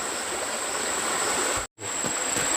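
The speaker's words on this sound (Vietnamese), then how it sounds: "ở đây lại có cái dòng suối nó chảy qua như thế này, suối lúc nào cũng có nước chảy" A stream runs steadily past a rural spot where people bathe and wash, its broadband rush of flowing water filling the clip, broken by one brief dropout.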